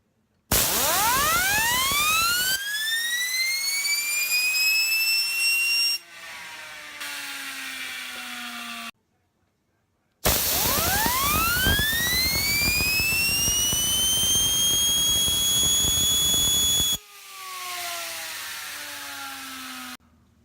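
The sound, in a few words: FEGVE GEAR fidget spinner spinning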